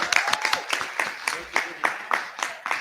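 A crowd at a junior high school superintendent's supper claps in rhythmic bursts, a moderate round of hand claps rising and falling, with no speech over it.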